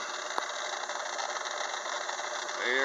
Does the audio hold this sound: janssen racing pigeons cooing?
no